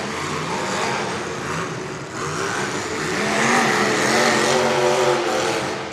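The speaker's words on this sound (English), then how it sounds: "That motor sounds really good in that car." Demolition derby car engine at the Greeley Stampede in Colorado, a loud, continuous rough roar with wavering harmonic tones that swell slightly louder midway.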